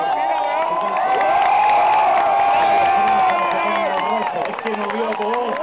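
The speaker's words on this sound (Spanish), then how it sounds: "escucha al público" Crowd at a rally motorshow cheering and whooping loudly and continuously, a dense roar of many voices with shouts rising above it.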